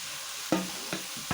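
Leafy greens frying in a pan sizzle steadily while a utensil stirs them, with three distinct scraping knocks against the pan over a brief moment and no speech.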